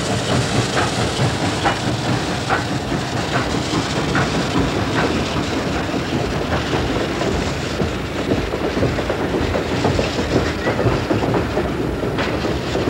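Steam locomotive No. 76 on the Gettysburg Railroad, a Pennsylvania short line, arriving at Biglerville with a continuous rumble and rhythmic clickety-clack of wheels, mixed with hissing steam, loud and close throughout.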